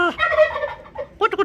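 Turkeys gobble at close range in a few rapid, warbling bursts, with no talk over them.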